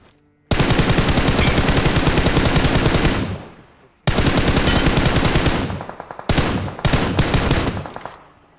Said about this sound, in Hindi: अब यहाँ पे राइट साइड से फायर हुआ और एक बंदा और नॉक हुआ